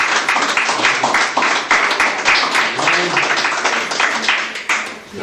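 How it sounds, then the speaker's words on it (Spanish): Church congregation applauding during a Spanish-language sermon on the Lord's discipline and grace, steady dense clapping throughout with crowd voices and cheering mixed in. "Dale un aplauso a Cristo"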